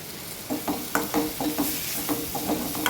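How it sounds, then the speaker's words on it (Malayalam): Masala for squid roast fries in a pan, a faint steady sizzle with soft rhythmic scraping as a spoon stirs it at a moderate pace. "ഇനി ഇത് നന്നായിട്ടൊന്ന് ഇളക്കി അതിൻ്റെ പച്ചമണം മാറുന്നത് വരെ ഒന്ന് യോജിപ്പിച്ചെടുക്കണം"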